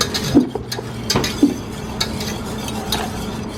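Hot espresso tart filling mixture being stirred in a bowl, with a few distinct scraping, clinking strokes of a utensil spaced irregularly across a quiet background, close and moderately loud, no voices.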